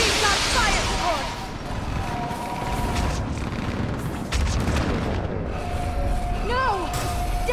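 Fire support in the Mass Effect 3 battle for Thessia: a dense, continuous barrage of booming explosions and gunfire, with shrill alien cries and metallic whines rising over the rumble.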